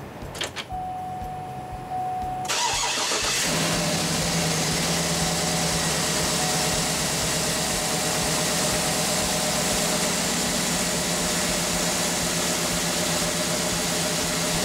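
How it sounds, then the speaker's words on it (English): A Cadillac Escalade engine starts after serpentine belt replacement, cranking briefly and then settling into a loud, steady idle with a close, even mechanical hum and a faint rhythmic ticking beneath it. "go ahead and test to see if everything's on there correctly by turning on the car"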